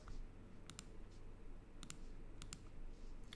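A computer mouse clicks faintly in quick pairs, three or four double clicks spaced out over a low steady room hum, with no talk.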